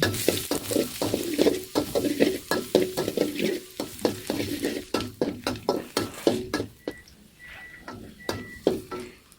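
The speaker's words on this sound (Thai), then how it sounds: "เดี๋ยวก่อนอื่นเลยจะขอใส่กระเทียมไปนิดนึงนะคะ" Garlic fries in a pan while being stirred for a Korean-sauce vegetable stir-fry, with a hissing sizzle under rapid, rhythmic clacks of a spatula against the pan that grow sparser near the end.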